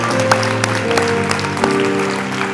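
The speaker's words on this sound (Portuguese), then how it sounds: "Aplauda o Espírito Santo de Deus." A church audience claps during a Portuguese-language sermon, steady applause running throughout this brief moment beneath sustained organ or keyboard tones.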